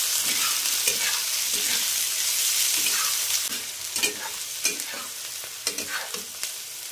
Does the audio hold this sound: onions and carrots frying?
yes